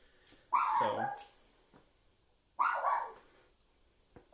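A dog barks twice indoors, each a loud, sharp burst of yapping that trails into a short whimper, with a pause of about two seconds between them.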